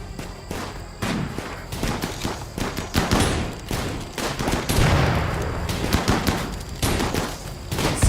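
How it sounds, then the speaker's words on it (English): Dense bursts of incendiary launcher fire in a shooter video game, loud overlapping shots and blasts throughout with a steady backdrop of battle noise. "Incendiary launcher for the win, man."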